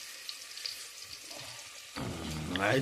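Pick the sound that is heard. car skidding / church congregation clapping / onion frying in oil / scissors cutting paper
onion frying in oil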